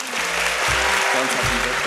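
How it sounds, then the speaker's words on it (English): A crowd applauds loudly and steadily, a dense wash of clapping with a few low voices underneath. "Big round of applause."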